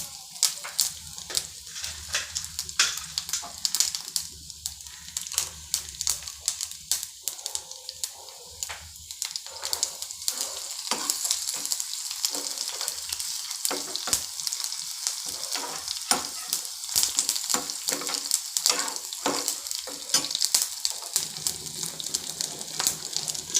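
Crushed garlic and chana dal frying in hot oil, a dense crackling sizzle with scattered sharp pops and occasional stirring, running steadily throughout at close range with no talk.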